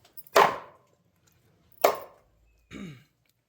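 A knife chopping barramundi fish into pieces gives three close, loud, separate chops, the first two sharp and the last duller, with quiet gaps between them.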